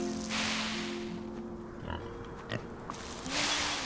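Farm pigs in the video game Farm Together give a few short, low grunts and oinks, faint and scattered over a soft background of farm ambience.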